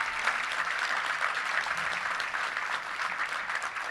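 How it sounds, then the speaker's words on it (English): A room of attendees at a Little Rock touchdown club luncheon applauds a college football coach, giving a dense, steady round of clapping throughout with no one speaking. "Let's give him a round of applause for being here today."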